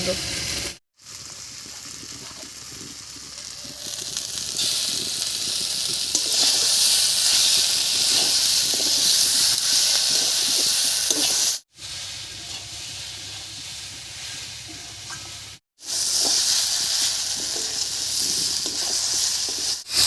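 Vegetables and ground spice paste sizzle steadily in a hot wok, a bright hissing crackle broken by a few brief silent cuts, with occasional stirring scrapes.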